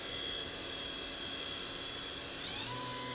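Spindle of a 2020 Tsugami B0203-III Swiss-type CNC lathe spinning at high speed, a steady broadband whine with high-pitched tones that climb near the end, loud and continuous with no talk.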